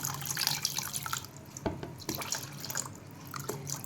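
Water splashes and trickles into a pot of idli sambar in short pours, with gentle dripping between, close by and fairly quiet.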